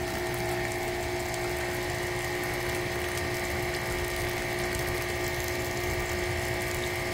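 Husqvarna electric pressure washer pump running as it purges air and impurities, a steady mechanical whir with rapid ratcheting pulses and watery gurgle, continuous and close throughout.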